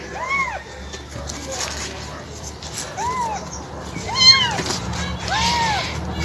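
A pregnant pet cat meows repeatedly in short rising-and-falling cries, about five calls spaced across a few seconds, close to the microphone over a quiet background.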